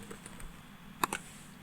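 A short burst of keys tapped on a computer keyboard while entering a git command, a few quiet, close clicks in a cluster after a near-silent pause.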